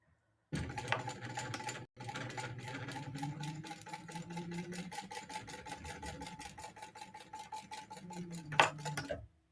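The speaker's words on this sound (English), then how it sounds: "we're going to sew that seam allowance at the pattern recommendation. Definitely going to backstitch at the beginning and the end" A sewing machine runs steadily, stitching a bag seam for the Alma Bonita bag with a backstitch. Rapid, even needle clatter is close and continuous, with a brief pause early on and a change in tone near the end.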